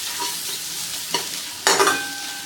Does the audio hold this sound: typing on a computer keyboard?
no